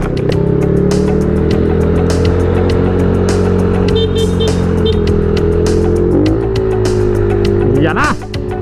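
A Honda Click 125 scooter with a big valve runs at top speed on a highway, its engine droning loudly and steadily with wind rush, pitch shifting slightly near the end.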